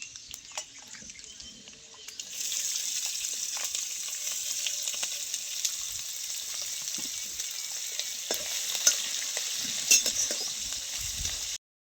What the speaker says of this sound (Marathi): पहिल्यांदा शेंगदाणा टाकायचं तेलात, म्हणजे तळून लागतं चांगलं.